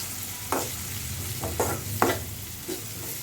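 Ginger garlic paste, onions and turmeric sizzle in a hot pan. A spatula scrapes through them in several distinct strokes over a steady frying hiss, close and clear, with no voices.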